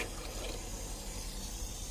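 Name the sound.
filling water from a tap for soaking clothes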